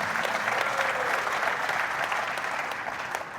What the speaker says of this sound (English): Y'all give him a round of applause for that.